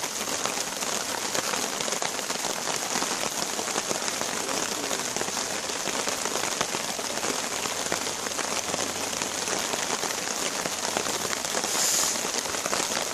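Heavy rain beats steadily on a bushcraft camp in the woods, a dense, unbroken hiss of drops pattering on surfaces close by, loud and constant with no voices.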